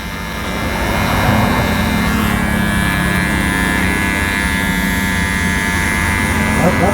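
Electric beard trimmer running steadily as an Indian-style long beard is shaped and faded, a continuous buzzing hum close up lasting throughout with no pauses, someone talking over it.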